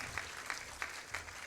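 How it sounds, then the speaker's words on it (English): A crowd applauds Arshi at a university talk, with a steady wash of clapping and regular louder swells recurring about every third of a second. "A great round of applause for Arshi here."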